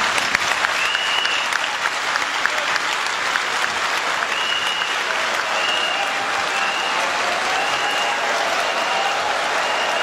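Sustained applause from a large audience in a hall at the opening of a political dialogue session in Mali, steady dense clapping throughout, close and fairly loud with no speech.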